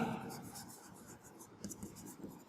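Short scratchy strokes come from writing on a board during a Class 9 maths lesson on lines and angles. The strokes are quiet and sit under a teacher's speech.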